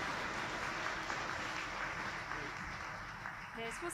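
Audience applause at the 2024 Samsung Ho-Am Prize award ceremony, a steady dense wash of clapping through the whole stretch with voices talking over it.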